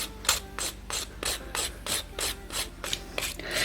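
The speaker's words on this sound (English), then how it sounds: "I do want to make it a little thinner on the side, so I'm gonna do a little bit of filing" A polygel nail being filed, with regular back-and-forth rasping strokes of about three per second, close and steady with no talk.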